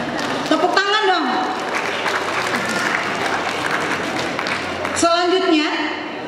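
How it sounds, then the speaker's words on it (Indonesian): Applause from a crowd filling the clip, with a voice speaking over the clapping at the start and again near the end. "Tepuk tangan dong."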